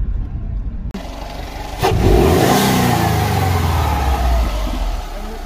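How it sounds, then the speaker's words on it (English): A turbocharged Subaru Impreza WRX hatchback with a Mishimoto air intake revs hard and builds boost to 10 psi with a rising whistle, loud and close, holding a strong steady roar after a brief dip. "I love turbo noises."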